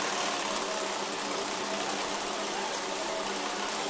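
Steady, continuous whirr of a sewing machine stitching a pure cotton dress with a boat neck, running at an even pace close by from start to finish with no talk over it.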